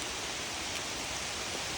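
Rain falls through the trees while hiking at Graves Hill near the Devil's Soup Bowl in Yankee Springs, Michigan, a soft, even, hissing wash with no breaks, faint and uniform, without voices.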